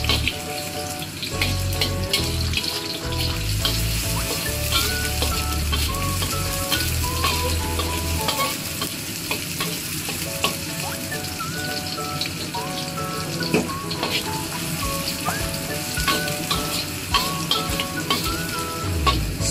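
Onions and garlic fry golden brown in a pan with a loud, steady sizzle and crackle, along with occasional scraping and stirring clatter.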